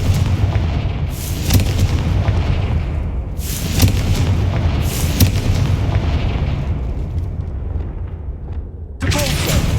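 Repeated loud explosions from the Confringo fire spell in Hogwarts Legacy blast over a dense rumbling battle din, the booming bursts recurring every second or two.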